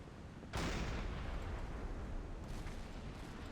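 A deck gun in Silent Hunter 5 fires on a burning ship, giving a loud boom at the start that rolls on into a long rumbling wash, with a second, softer report about two seconds later.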